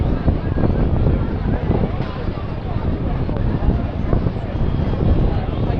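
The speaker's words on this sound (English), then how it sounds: "Let's just listen to these wonderful Pratt & Whitney Wasp radial engines, 1200 horsepower each." Pratt & Whitney Wasp radial engines, 1200 horsepower each, on a vintage aircraft making a final pass at the Blackpool airshow, giving a steady, broad rumbling drone heard outdoors with wind buffeting the microphone.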